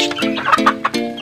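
Young chicks being raised and fed, giving several quick, fairly loud peeping calls one after another, with no voices present.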